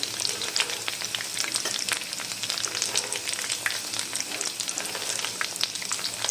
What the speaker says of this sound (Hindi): आप इसको मीडियम फ्लेम पे फ्राई कीजिएगा